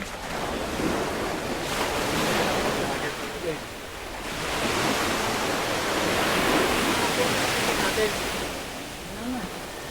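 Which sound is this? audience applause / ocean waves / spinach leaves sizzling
ocean waves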